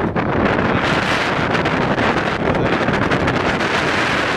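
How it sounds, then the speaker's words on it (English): Constant loud wind buffeting the microphone on a mountain route near Cribyn, a heavy rumbling roar with gusty crackles throughout and no voices. "a little bit windy"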